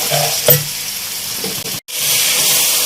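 Masala with turmeric and ground coriander powder being fried and stirred in a pan, a loud steady sizzle broken by scraping stirs and a short gap near the end.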